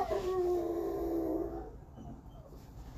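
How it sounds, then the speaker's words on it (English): Dogs howl and whimper nearby, a long rising-and-falling wail in the first half followed by quieter whines and yips, with no talk. "My dogs are yelling because my brother's out."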